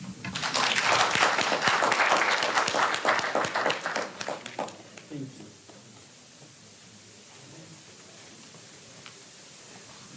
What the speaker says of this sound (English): I think he deserves a much heavier and warmer hand clap